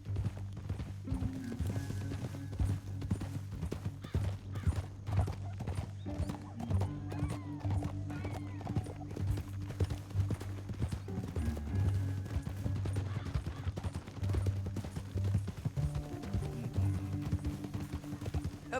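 Horse hooves clip-clop steadily in a Western video game, with an occasional whinny, under a continuous bed of game music and ambience.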